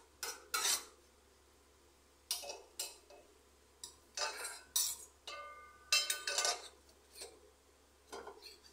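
A spoon stirs and mixes in a pot, scraping and clinking against the sides in irregular bursts with short quiet gaps, close and fairly loud, with no voices.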